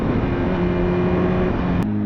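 A 2007 Honda CBR1000RR sport motorcycle engine pulling hard under acceleration, a loud continuous droning roar with a steady pitch that briefly shifts near the end, close to the bike.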